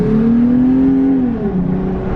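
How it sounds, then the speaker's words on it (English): A cheap truck's engine growls steadily at close range, a low droning tone that bends downward near the end as it settles, with no talking over it. "you know that sound I was talking about that went grrr?"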